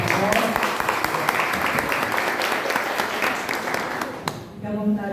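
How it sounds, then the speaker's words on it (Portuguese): A church congregation at a couples' gathering applauds to welcome the evening's pastor, with a loud wash of sustained clapping that cuts off abruptly near the end. "Todos recebendo desde uma salva de palmas."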